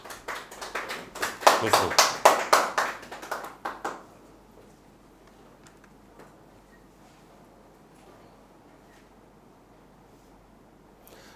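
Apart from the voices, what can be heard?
audience applause welcoming a student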